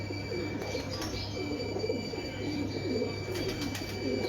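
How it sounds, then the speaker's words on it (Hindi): Antique breeder pigeons coo in soft, repeated low rolling calls over a steady background hum, with faint chirps and light rustles nearby. "बहुत लाजवाब कबूतर माशाल्लाह"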